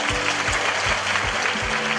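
At a Tokyo fan meeting, a crowd applauds in a steady wash of clapping while a regular, thumping musical beat pulses underneath.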